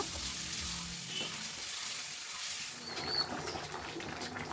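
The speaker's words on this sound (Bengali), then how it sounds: "চিকেনটা কষানো হয়েছে এখন জল ঢেলে দিচ্ছি সেদ্ধর জন্য" Water poured into chicken curry cooking in a pot, a soft broad hiss and bubbling that shifts partway through, fairly quiet with faint background noise and no speech.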